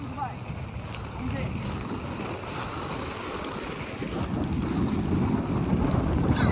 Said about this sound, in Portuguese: Diz que agora tá contra o vento, e tá vindo ainda.